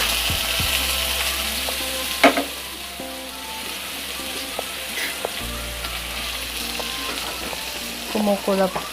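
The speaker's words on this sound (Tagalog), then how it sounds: "Ipa-fry po natin ang hotdog." A hotdog sizzling in a pan with steady crackle, punctuated by utensil clinks and scraping, close by and moderately loud.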